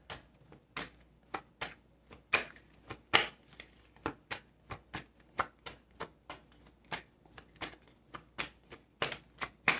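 Tarot cards shuffled by hand in a quiet room, producing a fast, even run of crisp riffling snaps that sound close and clear, with no voices.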